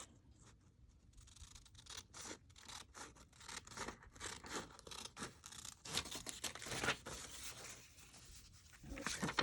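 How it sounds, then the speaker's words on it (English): Scissors snip through paper for a floral junk journal, a quick run of close, crisp cuts and rustling paper repeating irregularly throughout, with no talking. "Let me try this with my scissors."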